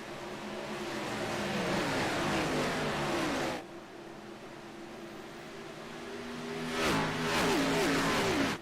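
Race cars roar and accelerate together on a restart at Atlanta in a racing video game, a dense continuous engine drone that briefly drops and then surges again.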